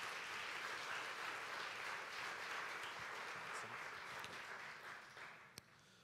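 A church congregation applauds steadily, a dense wash of many hands clapping that holds for several seconds before thinning slightly near the end, with a sharp single knock close to the finish.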